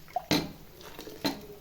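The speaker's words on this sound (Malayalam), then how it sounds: "വെള്ളം ചേർത്ത് കൊടുക്കാം." Two short splashes of water land in a pot of fish-style curry made with ash gourd and a ground paste of coconut, chilli and turmeric, each a quick close slosh separated by a brief pause.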